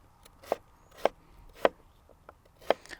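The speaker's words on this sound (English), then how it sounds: "cutting it into these French fry shapes and then dicing it this direction" A knife dicing a potato on a cutting board, cutting it into fry-shaped sticks and then into cubes: five crisp, evenly spaced chops close by, over a quiet background.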